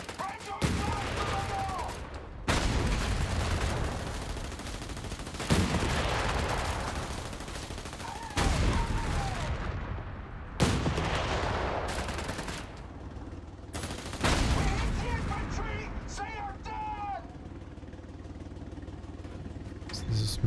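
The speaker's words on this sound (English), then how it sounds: "There's this machine gun coming out of that hole there." Machine gun fire rattles in a WWII-era war strategy game featuring US Forces and a Free French battlegroup, coming in several loud sustained bursts with brief gaps, mixed with engine noise and a voice talking.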